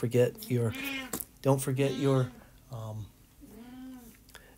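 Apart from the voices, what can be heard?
cat meowing in background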